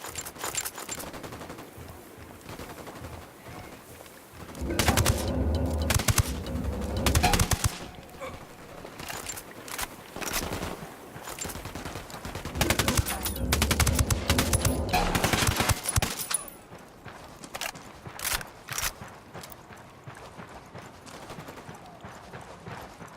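Bursts of automatic gunfire and fusillades in the open-world shooter Ghost Recon Wildlands, loud and dense in two long volleys with scattered shots between, a cartel firefight with occasional voices.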